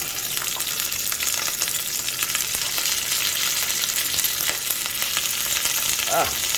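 Beef searing in a hot pan before going into a crock pot, with a steady, loud, dense sizzle and scattered sharp pops of spitting fat throughout; no talking.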